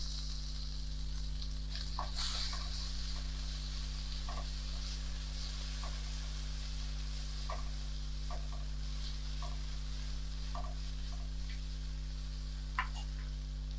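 Grated raw mango being sautéed and stirred in a pan for raw mango rice, a low steady sizzle with occasional soft clicks of a spoon against the pan, moderately quiet and without talk.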